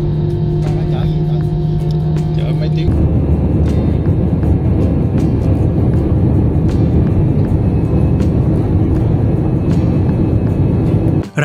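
A passenger airliner climbs out of Ho Chi Minh City at night, its engines a steady, loud broadband roar that grows fuller after the first few seconds and holds constant, close and enveloping throughout.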